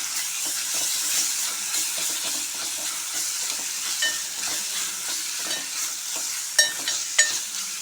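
Ginger stirred into a frying tomato curry with turmeric, giving a steady sizzle under a spoon's repeated scraping, with a couple of sharper clinks near the end and no voices.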